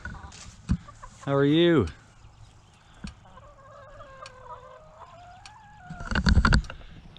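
Backyard chickens in a homestead chicken run give one loud, drawn-out cluck over a quiet background. A person briefly speaks nearby, with rustling and handling noises near the end.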